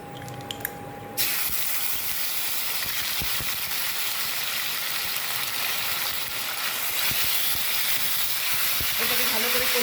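Ginger tossed into a hot pan of oil with whole garam masala such as cinnamon and a pinch of salt, bursting into a loud, steady sizzling hiss after a quieter moment at the start.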